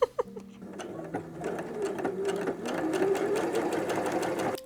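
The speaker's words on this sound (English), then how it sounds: "These fabrics are quite satisfying to sew together." A sewing machine stitching fabrics together, a steady close mechanical whir with rapid needle ticking that builds after a few clicks at the start.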